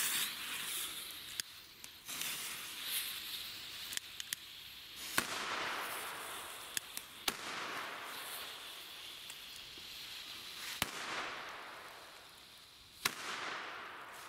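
Chinese firecrackers set off outdoors, a series of sharp bangs at irregular intervals, heard from a distance amid hissing fizz and crackle.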